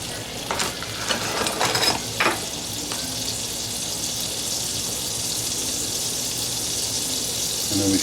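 A few tablespoons of butter sizzle in a pan with a steady, close hiss, with a few brief clatters near the start.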